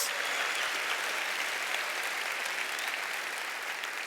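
Church congregation applauding during a sermon, a dense and continuous roar of many clapping hands with cheering, loud and even for the whole stretch.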